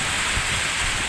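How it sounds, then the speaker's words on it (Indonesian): Heavy rain pours down in strong wind, a dense, steady roaring hiss that fills the whole scene loudly and without a break, with no voices. "Hujan sangat besar."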